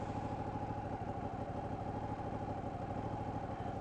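Ducati 959 Panigale 2016 sport motorcycle engine running steadily at a close, constant drone with a busy mechanical clatter, no talk over it.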